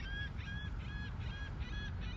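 A flock of geese-like birds flying over a beach at sunset gives repeated honking calls in a regular rhythm, fairly faint and distant over a low steady wind rumble.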